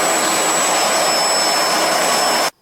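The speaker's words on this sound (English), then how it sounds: "The Bissell ProHeat 2X Revolution Pet Pro Carpet Cleaner." A Bissell ProHeat 2X Revolution Pet Pro carpet cleaner runs with a loud, steady whirring motor roar, close and alone, then cuts off abruptly near the end.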